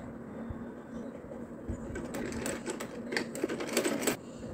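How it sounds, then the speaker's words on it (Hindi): Sewing machine stitching a cloth for a chapati wrap, running steadily at close range with rapid mechanical clatter that picks up and grows busier toward the end, a faint low hum beneath. "तो ऐसे ही हम एक पीस करके सिल लेते हैं फ्रेंड्स।"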